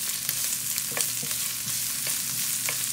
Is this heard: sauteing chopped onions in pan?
yes